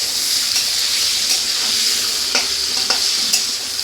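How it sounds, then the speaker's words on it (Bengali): Potato pieces sizzle steadily in hot oil in a home kitchen pan, a continuous loud frying hiss broken by several sharp scrapes and clinks as a utensil stirs them. "আলুটাকে আমি ভালো করে ভেজে নেব, এই ভাজাতেই যেন সেদ্ধ হয়ে যায়।"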